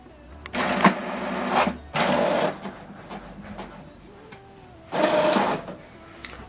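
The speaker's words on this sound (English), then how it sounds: "Document is printing." An HP DeskJet 2800e inkjet printer printing a document, with three bursts of whirring carriage motion separated by quieter pauses with faint mechanical clicks, close and clear with no talking.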